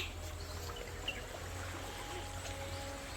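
A stream flows beside an old-style house in a village during the rainy season, giving a steady, soft trickling wash that runs unbroken under faint insect-like hiss.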